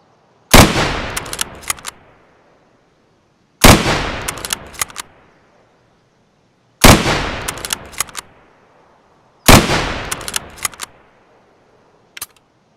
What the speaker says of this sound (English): The SV98. I'll scope it up to 200, so you can see where the bullets are hitting